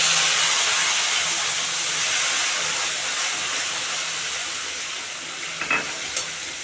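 Onion, ginger and chili paste sizzles and spits in hot oil seasoned with black cumin seeds, a loud, continuous frying hiss close up, with a few brief stirring clinks near the end.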